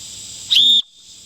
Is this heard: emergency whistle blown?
yes